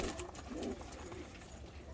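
Soft, low coos from spot pigeons sound faintly against a noisy outdoor background, with no talking.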